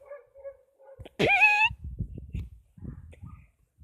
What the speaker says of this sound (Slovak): Hrozne, ale môj pes tam behá.